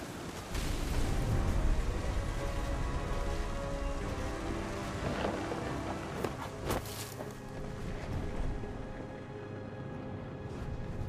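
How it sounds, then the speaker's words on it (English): Steady rain and storm noise in the video game What Remains of Edith Finch, a broad continuous wash with a few sharper bursts around the middle, fairly loud and close, with no voices. "The thunder sounded much too close and full of angry power"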